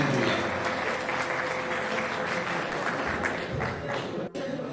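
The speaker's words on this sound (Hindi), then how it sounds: "भरपूर तालियों में इस्तकबाल करें" Dense, sustained applause from a mushaira audience greeting a woman poet on stage, loud and continuous throughout with a brief dip near the end.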